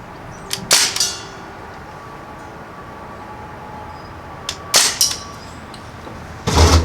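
A Crosman R1 full-auto air rifle fires single shots outdoors, three sharp separate cracks spaced a few seconds apart, each loud and brief over a quiet background.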